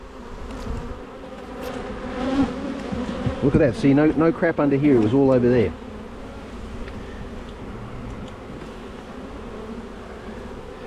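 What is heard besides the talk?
honeybees buzzing in opened hive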